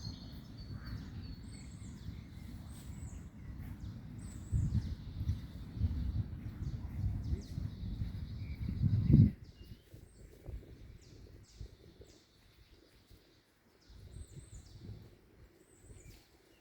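Free-roaming birds singing outdoors near a restaurant, with repeated high chirping phrases heard faintly at a distance over a low rumble of wind or handling noise that drops away partway through.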